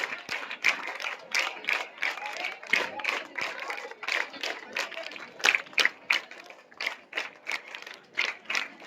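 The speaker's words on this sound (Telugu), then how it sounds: "big claps" An audience at a public meeting with an MLA claps together in a rhythmic counted pattern, the sharp claps grouped in repeating beats and filling the hall steadily over several seconds.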